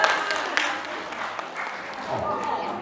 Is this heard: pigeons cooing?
no